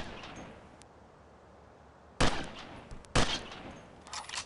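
Gunfire in the PC game Delta Force Task Force Dagger, two sharp loud shots about a second apart over a low background hiss, with a fainter burst at the end.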